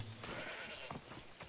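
A goat in a hunting video game bleats once, short and fairly faint, over a soft ambient background with no talking.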